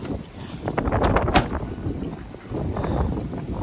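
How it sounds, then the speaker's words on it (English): Steady wind buffeting the microphone, loud and continuous, with low rumbling gusts and a few brief clatters near the start. "like I said, it's very windy"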